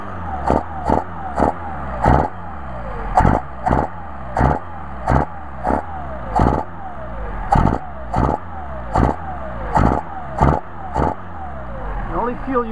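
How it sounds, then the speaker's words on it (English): A Mercedes-Benz 190SL engine with Solex carburetors is revved repeatedly in short, sharp bursts, a dozen or so loud blips in quick succession heard close up. "when you rev up the engine"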